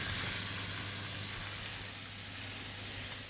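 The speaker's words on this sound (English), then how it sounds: "the steam from that lemon is actually cooking it as well" Lemon halves fry and steam in a hot pan alongside harissa, giving a steady, soft hissing sizzle that stays even and fairly quiet throughout, with no talking.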